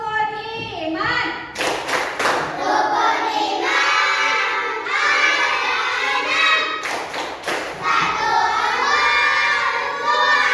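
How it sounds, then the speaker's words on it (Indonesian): Children stand in a classroom and do the tepuk rukun iman clapping chant, with rhythmic group claps and thuds under loud, continuous chanting voices. "Ayo kita tepuk rukun iman ya"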